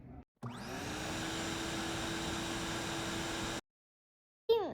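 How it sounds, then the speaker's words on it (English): A vacuum cleaner running in a house: a steady, loud broadband whine that starts abruptly, holds for about three seconds, then cuts off, with a short burst as it restarts at the end. "I'm vacuuming some areas."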